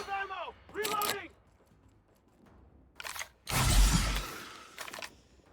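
A weapon reloads in the video game The Outer Worlds, a few short mechanical clicks and a rattling clatter among brief bursts, mixed with spoken voices.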